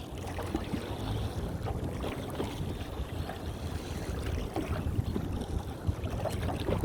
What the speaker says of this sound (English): We've got a bit of wind.